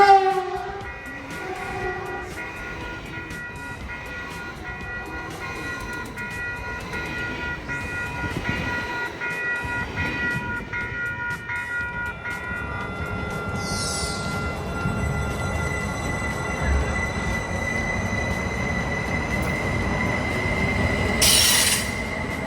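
Caltrain commuter train rolling along the rails, a steady loud rumble with sustained high wheel squeal and a brief sharp screech near the end, no talking.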